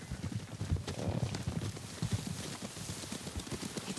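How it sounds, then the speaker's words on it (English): Horses gallop in the Ghost of Tsushima video game, a rapid rhythmic clip-clop of hooves with low thuds, moderately loud and drawing near, with no voices over it. "Horses, they're coming for us."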